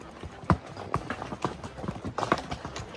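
Iowa horses fitted with hoof pads clop along a rocky Wyoming mountain trail near a bear camp, hooves striking in a steady, close, uneven rhythm with no talk over them.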